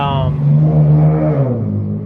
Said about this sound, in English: that's a horrible sounding car